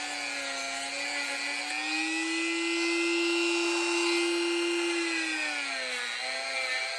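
A Dremel rotary tool grinds down a plastic lip and peg on a plate carrier vest, giving a sustained high whine held close and loud, with pitch shifting slightly as the load changes.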